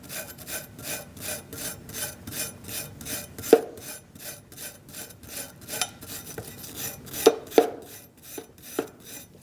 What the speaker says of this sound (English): Use a wire brush and start cleaning up your bracket.